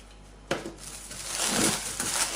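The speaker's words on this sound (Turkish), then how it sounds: "Eğer topak topaksa elinizde biraz ufalayın ya da eleyin nasıl istiyorsanız." Lumpy powdered sugar is crumbled by hand on a plate: a close, soft crushing rustle starts abruptly at half a second and carries on steadily, with no talking.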